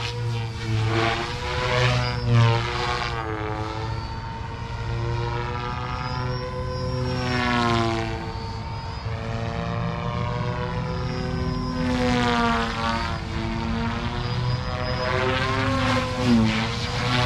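Goosky RS4 RC helicopter with short rotor blades spinning at high head speed on a bench, a steady loud whine with stable harmonics and slight pitch wavering throughout, no talking.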